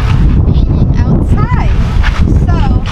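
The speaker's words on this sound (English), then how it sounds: "since it's a little windy" Loud wind buffeting the microphone in heavy low rumbling gusts, with brief voice-like tonal sounds passing over it.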